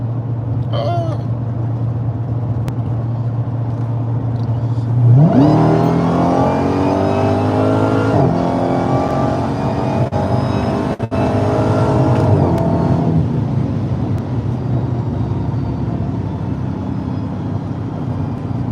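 A Dodge Demon 170 with over 1,000 horsepower accelerates hard: a loud steady engine drone climbs into a rising roar with gear-shift steps, heard from inside the car, then settles back to a constant hum.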